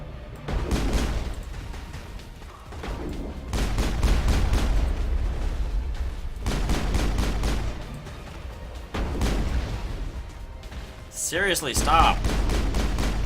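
Rockets and gunfire pound cover in the Mass Effect video game, with dense bursts of shots and booming impacts running throughout while a player talks over them.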